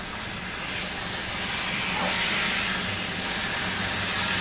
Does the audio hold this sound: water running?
no